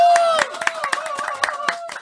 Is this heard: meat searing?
no